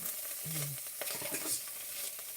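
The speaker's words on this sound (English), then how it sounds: "This is a perfect sound when you want to saute." Chanterelle mushrooms sizzling and crackling as they sauté in a pan with occasional stirring scrapes, steady and fairly quiet, no one speaking.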